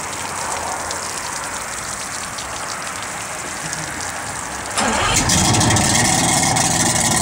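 A 2006 Ranger 188 VS boat engine starts midway through, shifting from a steady low background hiss to a louder, fuller engine roar that holds steady through the end.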